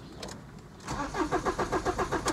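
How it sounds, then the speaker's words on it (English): An Audi A4 convertible with an intermittent running fault cranks repeatedly without catching, a rhythmic chug-chug of the starter close by after a short quiet lead-in. "it's just cranking"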